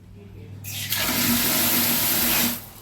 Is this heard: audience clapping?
no